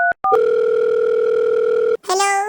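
A telephone dial tone sounds loud and steady after two short beeps as a call is placed, then cuts off briefly before a burst of higher ringing tones.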